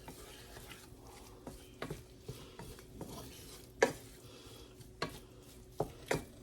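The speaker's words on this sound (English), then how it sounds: "Going to give it a mix to see if that coats everything." Flour stirred into sausage grease in a pan for a breakfast pizza, a quiet low sizzle punctuated by a series of irregular utensil scrapes and clicks against the pan, close and sparse.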